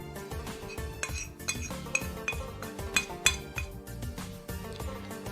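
Spoonfuls of ground spices for homemade Nihari masala, including Kashmiri red chilli, tipped into a bowl with repeated metallic clinks and taps of a spoon against the dish, close and fairly quiet, with no talking.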